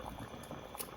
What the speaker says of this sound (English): Only the meat and the seasoning. No water is in right now. It's doing a little bubbling